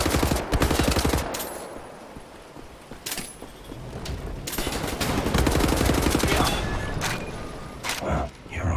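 Rapid automatic gunfire from a shooter game set against Nazi soldiers in Wolfenstein: The New Order, loud and sustained in dense bursts with brief gaps, mixed with game effects.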